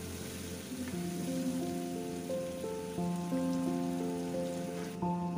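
Half a cup of frozen peas sizzling in a hot pan while being stirred and sautéed: a steady, loud, rain-like hiss that runs the whole time under prominent background music.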